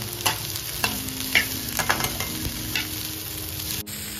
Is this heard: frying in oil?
yes